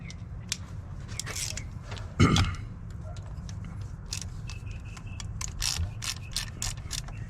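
Ratchet wrench working bolts loose on a 2019 Chevrolet Sonic coolant outlet, quick clicking bursts and metallic clinks up close, with one louder clank partway through.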